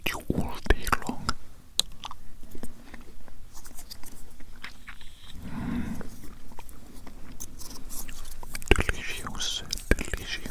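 Close, intimate mouth sounds of chewing and biting in an alien eating roleplay, soft wet crunches and smacks scattered through the clip under quiet whispering.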